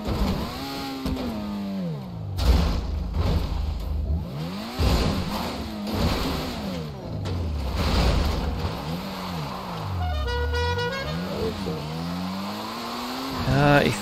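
Car driving cross-country off-road in GTA V Online, engine revving and rising and falling in pitch over a steady game soundtrack, with people talking over it throughout.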